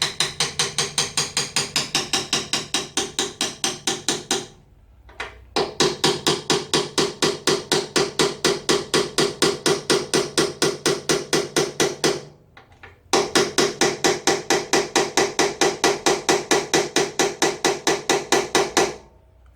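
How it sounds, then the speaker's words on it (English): A hammer taps the top lock nut on the steering head of a Suzuki GSXR750 in fast, even, ringing strikes, close and loud, in three long bursts broken by short pauses. "I'm just going to give that top lock nut a bit of a tap."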